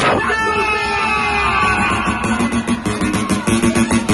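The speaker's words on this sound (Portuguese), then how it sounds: "E Alex cadê o grito da mulherada que não depende de homem pra porra nenhuma?" Crowd of women yelling and screaming at a paredão sound-system party in Bragança, a loud, dense wall of shrieks and whoops that is close and continuous, with music and chatter mixed in.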